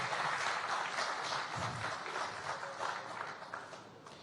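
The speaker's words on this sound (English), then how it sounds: "Let's put our hands together for all the gentlemen who've made it here." Applause from a seated audience at a live debate event, a steady wash of clapping that holds throughout and fades slightly toward the end, with no voices over it.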